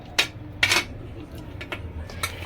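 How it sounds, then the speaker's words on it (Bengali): Chopped carrots drop into a pan while cooking Manchurian, giving a few sharp clattering metallic clinks of utensil against pan, close by, then softer scattered taps. "এবার দিচ্ছি গাজর"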